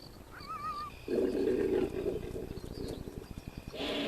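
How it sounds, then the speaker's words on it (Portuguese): A male impala gives a powerful roar, a rough, loud broken call that pulses in rapid grunting bursts through the middle of the clip, with faint bird calls at the start in the wild African bush. "O impala macho possui outra habilidade única entre os antílopes. Seu rugido é muito possante."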